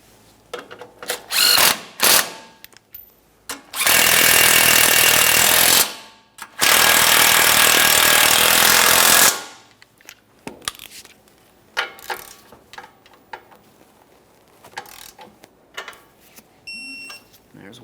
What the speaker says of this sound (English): as we start snugging, we're going to be using an 18mm for our 2 mounting nuts and a 15mm for the bolt